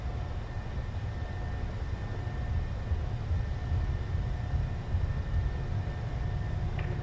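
Steady low engine roar of a PMDG Boeing 737 taking off in a flight simulator video game in stormy weather, broad and constant throughout with no voices.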